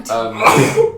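A person sneezes once, a sudden explosive burst rising to a loud peak mid-clip, with voices talking around it.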